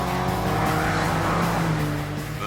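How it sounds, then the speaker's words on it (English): Peugeot 505 GTI sports saloon under way, its engine droning steadily with a loud, continuous note and some tyre noise, close and sustained throughout. "came up with cars like this, the 505 GTI, a sports saloon to rival any BMW"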